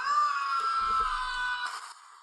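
A movie trailer plays through small computer speakers as a single long, shrill scream that holds steady for about a second and a half before fading, with a faint low rumble beneath it.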